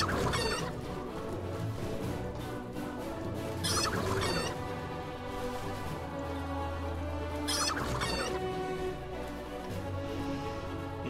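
Chickens clucking in the fantasy strategy game Age of Wonders III, squawking bursts recurring at intervals over a steady layer of game music and ambience, no talking.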